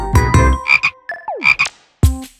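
Frogs croak loudly inside a frog-farming enclosure, several close, throaty calls in irregular bursts with brief pauses between them, some rising and sliding in pitch, and no voices present.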